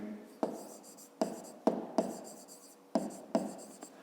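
A pen writing a math answer on paper, heard up close as quiet scratchy strokes with six or seven sharp taps where the pen meets the page, each followed by a short fading scratch, with no talking.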